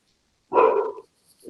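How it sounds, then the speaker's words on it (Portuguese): Small dogs barking indoors in a room: one loud, close bark burst lasting about half a second, heard alone with silence before and after. "os cachorrinhos resolveram participar aqui do processo"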